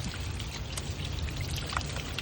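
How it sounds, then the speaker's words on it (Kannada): Fresh water running down out of the forest, a soft, continuous trickling and splashing stream heard close by on its own. "ಇಲ್ಲಿ ನೋಡಿ ಫ್ರೆಶ್ ನೀರು ಕಾಡಿಂದ. ನೋಡಿ ಇಲ್ಲಿ ಈ ತರ ನೀರು ಬರುತ್ತೆ"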